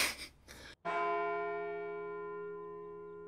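A school bell in the Spy x Family anime strikes once after a short bit of noise, a loud resonant clang that rings on and slowly fades over several seconds, with no talk.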